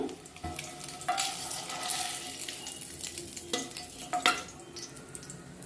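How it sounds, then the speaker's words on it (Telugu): Egg and garlic chili mixture frying in a pan, a steady close sizzle with occasional sharper crackles and spatula scrapes throughout, no talking. "ఫ్రై అంటే జస్ట్ కొంచెం రెడ్డిష్గా అయితే సరిపోతుందండి"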